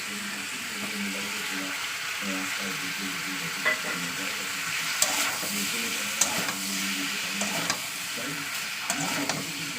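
Green chilies and onion sizzle and fry steadily in a pan as a utensil stirs them, with scattered scraping clicks and occasional sharper knocks against the pan; close, continuous, no talk.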